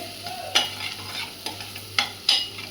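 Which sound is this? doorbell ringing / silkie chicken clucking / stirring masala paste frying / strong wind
stirring masala paste frying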